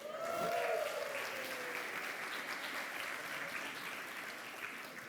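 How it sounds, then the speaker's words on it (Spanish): Crowd applause for a youth football team, a steady wash of many hands clapping that stays loud and even throughout, with a faint voice at the start. "Un aplauso para ellos."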